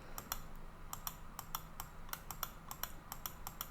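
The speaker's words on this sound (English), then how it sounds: "I'm now right-clicking to stop the drawing process" Rapid computer mouse clicks while drawing a field boundary in AgLeader SMS software, a string of sharp close ticks in irregular rhythm, quiet, with no talking.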